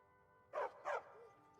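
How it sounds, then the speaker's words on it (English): A stray dog barks twice in quick succession inside the game Skyrim, two loud close yelps over a quiet, steady background hum. "Stray dog."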